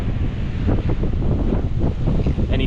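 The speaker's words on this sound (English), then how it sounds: "the waves are just a little bit too rough to see anything really" Rough ocean surf breaking on a main beach at Lakes Entrance, a loud, continuous broadband roar with heavy wind buffeting the microphone throughout, and no talking.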